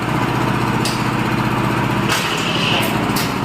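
A 7 hp power weeder engine running steadily nearby, a loud continuous buzzing drone with a few brief clanks from the machine, no talking.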